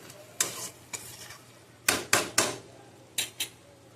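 Onion sautéed with ground green chilies, salt and sugar is stirred in a pan, giving several distinct scraping strokes of a spoon against the pan at an uneven pace, close and fairly quiet, over a low steady hum.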